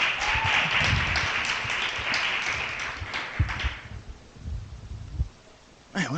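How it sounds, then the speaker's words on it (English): Poetry event audience applauding, a dense burst of clapping mixed with crowd voices that fades after a few seconds, leaving scattered low sounds and a brief voice at the end. "Give yourselves another round of applause."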